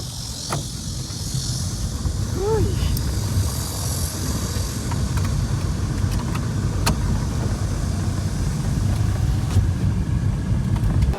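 A Tesla car driving on a road in South Korea gives a steady, fairly loud rumble of road and tire noise throughout, with a brief faint tonal chirp early on.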